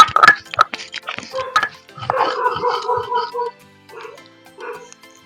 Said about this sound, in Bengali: পারে দিয়ে ডাকতেছে কুকুরি।